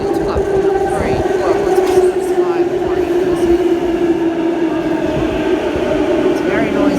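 A Sydney train, set A56, pulls into platform 3 at Chatswood station on the Epping to Chatswood Rail Link, giving a loud, steady rumble and hum that fills the underground platform from start to finish.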